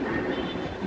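A metro rail train at Uttara Center station, heard as a steady, loud broadband rumble with a low hum, continuous and close throughout the moment.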